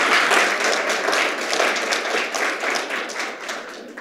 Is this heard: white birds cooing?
no